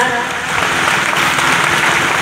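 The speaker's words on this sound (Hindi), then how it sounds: "आप लोग सब लोग एक बार जोरदार तालियों के साथ" Dense, steady applause from a crowd at a local public ground-breaking ceremony, filling the whole moment at moderate loudness with no gaps.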